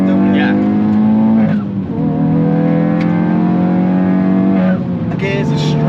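A Hyundai i20N's engine revs loud and close, its tone holding steady, then dipping and rising again as rev matching blips the throttle between gear changes, with voices talking over it.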